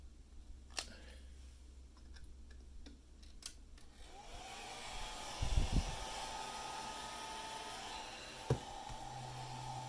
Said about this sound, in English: So now I've got a hairdryer plugged in, 123 volts.